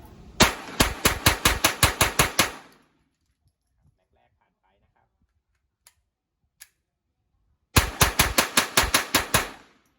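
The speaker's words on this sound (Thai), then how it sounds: "อันนี้ผมลองยิงเร็วๆดูนะครับ ว่า การทำงานของปืนจะติดไหมนะครับในกระสุนความเร็วต่ำ" A Glock 44 .22 LR pistol fired rapidly with standard velocity rounds, two loud close strings of about ten quick sharp shots each, separated by a quiet pause with a couple of faint clicks.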